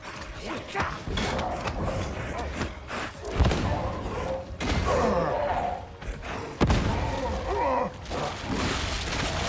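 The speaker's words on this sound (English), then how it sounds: "Shredder Frag Grenades, aiming for best effect" Shredder frag grenades bursting in Warhammer 40,000: Darktide, two sharp thudding blasts cutting through a busy mix of combat clatter and mechanical noise, with voices speaking throughout.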